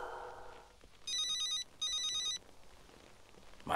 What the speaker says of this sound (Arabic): معلم تليفونك عم يرن.